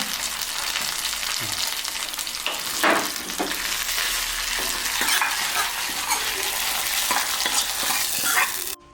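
Onions frying in a pan for sambar, a steady broadband sizzle with occasional stirring scrapes and clinks, close and fairly loud throughout with no talk.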